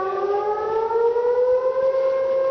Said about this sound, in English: I don't know what these sirens are all about.